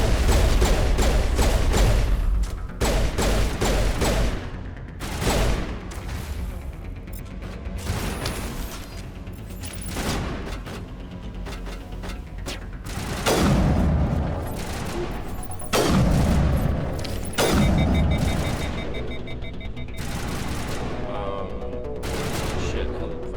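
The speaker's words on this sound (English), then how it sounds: "Is that a fucking rocket launcher?" Loud, repeated weapon blasts and booming impacts in Mass Effect combat, with rapid bursts of fire and heavier explosions scattered through the span and a voice talking between them.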